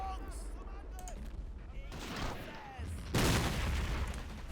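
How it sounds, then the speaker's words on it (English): Mortar fire and explosions in the WWII strategy game Men of War: Assault Squad 2, a rumbling barrage of booms swelling into a loud blast near the end, heard over continuous battlefield noise. "impossible to repair that tank with that mortar going on"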